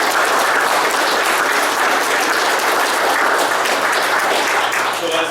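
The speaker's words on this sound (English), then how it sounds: "That deserves a round of applause." Township committee meeting audience giving a sustained round of applause, dense clapping from many hands filling the room at full volume throughout.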